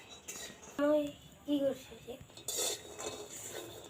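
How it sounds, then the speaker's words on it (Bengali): Peanuts dry-roasting in a pan, heard as quiet clinks and scrapes of a utensil against metal, with brief voices, one childlike, breaking in between. "চিনে বাদামটা ভাজতে লাগবে যাতে খুব ভালো ভাজা হয়"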